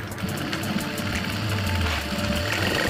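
Steady, continuous whir of a sewing machine stitching strips for pant grips, loud and close with an even mechanical hum and no talk.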